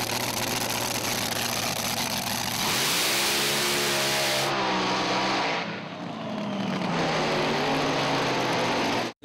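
Blown 468 cubic inch big block Chevrolet in a front-engine drag car at a nostalgia drag meet, loud and close, rising through a hard rev then dropping and roaring again in a sustained, harsh engine blast.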